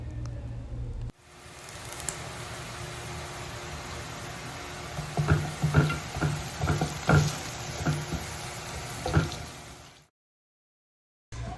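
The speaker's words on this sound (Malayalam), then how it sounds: "2 ഇല്ലി കറിവേപ്പില ഇട്ട് കൊടുക്കുക. ജസ്റ്റ് ഒന്ന് ഇളക്കി കൊടുക്കുക." Curry leaves sizzle and fry in a pan of crushed spices for a Kerala-style crab roast, with a steady hiss, a few sharp crackles and spoon scrapes from stirring, then a brief silence near the end.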